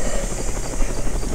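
Helicopter in the Roblox game Mad City, a loud, steady rotor drone with rhythmic thumping blades, close and continuous with no talk.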